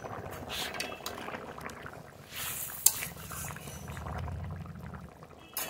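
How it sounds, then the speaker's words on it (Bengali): Water and taro curry simmer in a pot, a soft, low bubbling boil that rises toward the middle of the clip. An occasional light utensil clink is heard, with no talking. "জল এবার খুব ভালোভাবে জাল দিয়ে নেব"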